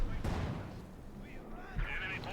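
Mortar rounds in Company of Heroes 2 land as two dull, booming thumps a moment apart, moderately loud under game noise and a voice speaking.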